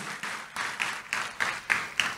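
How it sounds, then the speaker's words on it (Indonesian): A church audience claps for Jesus, a short burst of lively applause with distinct rhythmic peaks of several hands striking almost in unison, close and moderately loud. "Tepuk tangan dulu yang meriah buat Tuhan Yesus"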